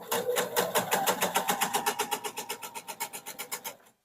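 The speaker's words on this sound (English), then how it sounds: "So if I'm sewing a diagonal line, and it starts right under my needle exactly" A sewing machine runs steadily, stitching a diagonal line across a quilt block with a rapid, even chatter of needle strokes, then stops abruptly after about four seconds, heard close and alone.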